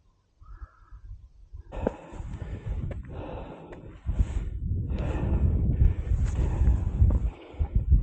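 Gusty wind on an open Peak District hillside buffets the microphone with a low, rumbling roar that rises and falls in uneven surges, loud and close, with no one speaking.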